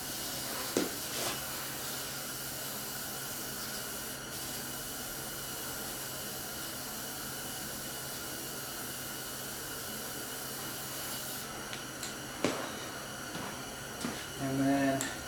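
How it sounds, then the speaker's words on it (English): A long, continuous spray hiss fills the bed of a junkyard pickup truck before a vinyl floor kit goes in, steady and close, with a few knocks and a person talking briefly near the end. "I'm going to spray this."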